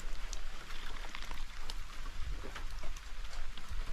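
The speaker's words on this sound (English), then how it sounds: "It's still pouring rain." Steady pouring rain at the end of a Labor Day weekend camp, a dense continuous hiss of drops spattering on surfaces, with a low rumble underneath and no talk.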